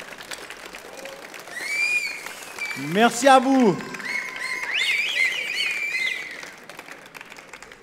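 An audience at the Arène Gourmande applauds a chef of a restaurant in Bulle, a rising patter of clapping in the middle of the clip, with someone speaking and faint chirpy tones around it.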